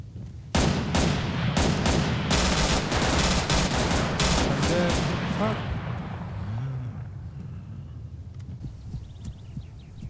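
FAMAS rifle fire in the Breaking Point video game comes in loud, rapid automatic bursts and single cracks for about six seconds, then fades to quieter ambience.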